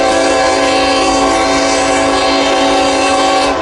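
A loud eastbound freight train on the former C&W line passes very close with its horn blaring, producing a steady, sustained roar throughout.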